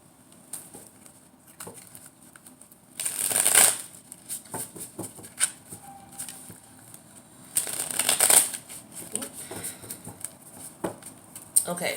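A deck of tarot cards being shuffled in two brief riffling bursts, close and crisp, with softer handling clicks and taps in between and faint speech in places.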